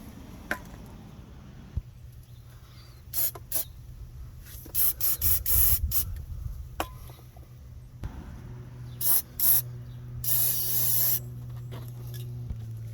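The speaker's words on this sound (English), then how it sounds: "I like to just give this a little shot of white lithium grease." White lithium grease sprayed from an aerosol can onto a front control arm bushing of a 2012-2018 Nissan Altima, heard as several short hissing spurts and one longer spray, close up, amid light clicks and handling noises.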